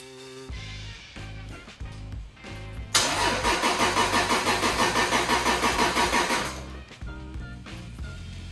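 A turbocharged Toyota Supra engine during its first startup after an ECU install: a few cranking bursts, then the engine catches and runs loud with a pulsing rev for several seconds before cutting out, and more cranking follows.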